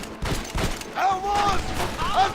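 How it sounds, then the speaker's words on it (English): Pump-action shotgun blasts in Red Dead Redemption, a few sharp bursts scattered through a busy firefight, with voices shouting over the shots. "Pump action shotgun."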